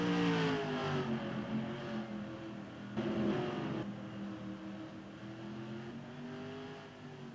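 Ford and Dodge race cars in a racing heat at Eldora roar around the track, their engines rising and falling in pitch as they rev and sweep past at middling distance.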